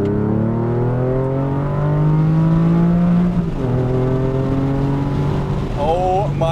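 A Porsche 911 with a fully rebuilt engine climbs hard toward redline, a loud rising engine note that drops at a gear change and pulls up again, heard from inside the car.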